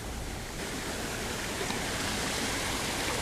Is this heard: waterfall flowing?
yes